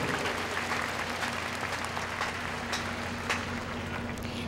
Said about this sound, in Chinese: 请同学以热烈的掌声欢迎贵宾的莅临